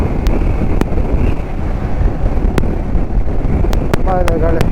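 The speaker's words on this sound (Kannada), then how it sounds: "ತುಂಬ ವಿಂಡ್ ಬ್ಲಾಸ್ಟು ಜಾಸ್ತಿ ಇದೆ" Strong wind buffets the microphone while riding a motorbike near the coast on a trip toward Dharmasthala, a constant loud roaring rush with occasional clicks and a voice speaking briefly near the end.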